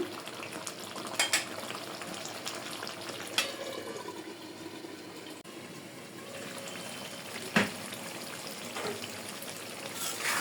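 Goat liver frying in a pan as it is stirred, with soft steady sizzling, a few sharp scrapes and clinks of a utensil against the pan, and no talking.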